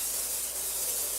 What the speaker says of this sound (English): I spray my pan with canola oil